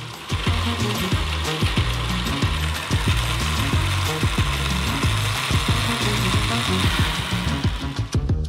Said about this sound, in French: Mettez-les sur le robot et transformez le tout en sauce.